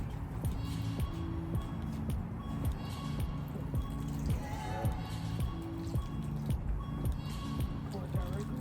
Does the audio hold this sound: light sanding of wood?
no